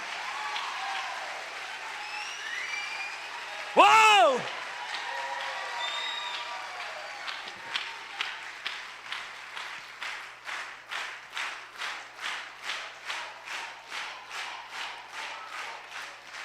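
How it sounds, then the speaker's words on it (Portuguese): A church congregation at Mass claps and cheers, with a short loud whoop early on, then the applause settles into rhythmic, evenly spaced clapping. "Aplauda!"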